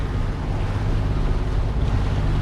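A sailboat motoring with its headsail up on calm water on an overnight sail toward Tangalooma, with a steady low engine drone under wind and water wash, continuous and close throughout.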